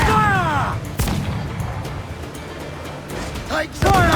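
Naval cannon fire from a sailing warship in Assassin's Creed IV Black Flag, with a loud boom near the start and heavy rumbling battle noise throughout, while shouted voices call out over it at the beginning and end.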